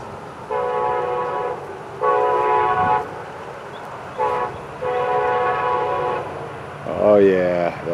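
A northbound Brightline passenger train passes close, its horn sounding in several loud, long harmonic blasts separated by short gaps, with a rising roar and rumble toward the end.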